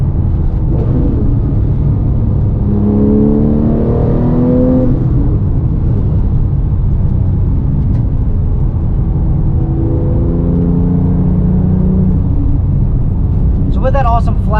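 Porsche 997 GT3 with a 3.6 liter flat six and six-speed manual, loud in-cabin engine drone rising and falling through gears under continuous road rumble, someone talking over it.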